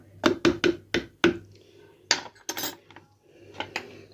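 A spoon beats a chicken kofta mixture in a bowl, producing a quick series of sharp knocks against the bowl, then a few more spaced, softer taps.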